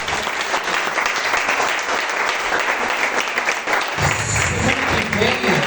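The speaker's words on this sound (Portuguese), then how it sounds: "Aplauda o Senhor, amados." A church congregation applauds throughout a spiritual battle worship service, dense sustained clapping filling the room, with voices and music joining in toward the end.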